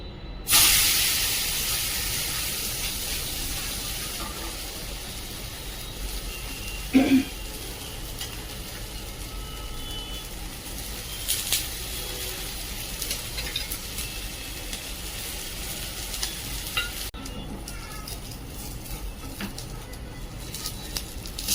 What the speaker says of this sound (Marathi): आणि दुसरं थालीपीठ ठेवून टाकूया गॅस थोडा कमी करायचा